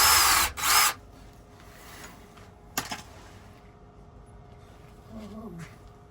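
A power drill widens a fuel line hole during a Vevor 8kW diesel heater install in a shuttle bus. It gives two short loud whirring bursts, then a brief sharp burst, followed by quieter handling noise.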